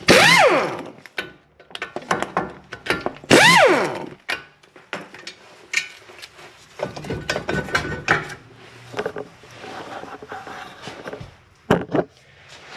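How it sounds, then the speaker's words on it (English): A ratchet wrench works loose the rusted 15mm front brake caliper bracket bolts on a 2007 Ford Fusion, with loud close bursts of rapid clicking followed by scattered metallic clinks and handling noises, with no talking. "you're going to remove these two 15mm caliper bracket bolts"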